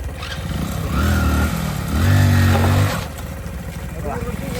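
A modified tractor engine revving, throaty pulsing tone rising in two strong bursts over a rough idle, close and loud, with people talking over it.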